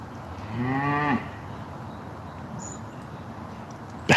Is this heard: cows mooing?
yes